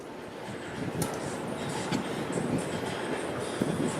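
A subway train at Toronto's Bay station rumbles and rattles past nearby, a dense, continuous roar with faint clicks and squeaks of wheels on track.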